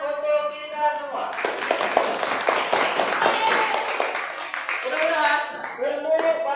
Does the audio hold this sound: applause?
yes